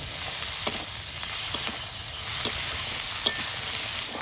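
Crab frying in oil with onion, ginger and garlic, a steady close sizzle broken by a few sharp scrapes of a spatula stirring the pan.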